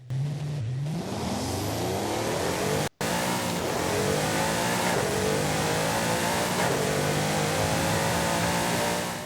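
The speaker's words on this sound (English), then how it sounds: "let's go ahead and take a listen to that engine, shall we?" Pagani Huayra engine in Forza Horizon 5 revving loudly on its own, pitch climbing steadily through repeated rising sweeps with a brief cut near the start and no talk over it.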